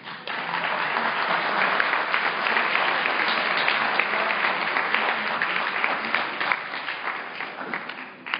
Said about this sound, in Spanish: recibamos con un fuerte aplauso al doctor.